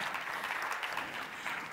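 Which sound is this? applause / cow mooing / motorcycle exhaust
applause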